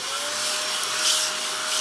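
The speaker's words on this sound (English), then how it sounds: "This mini desktop vacuum." A mini desktop vacuum whirring continuously up close, a steady high-pitched motor hum with a faint tonal whine and slight rubbing variation, no voices.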